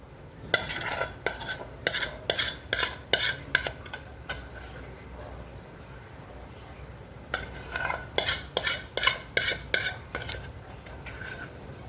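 Mango pulp is stirred into a pudding mixture in a bowl with a utensil, giving bursts of quick, rhythmic scraping and clinking strokes, a pause, then another run of brisk stirring close up.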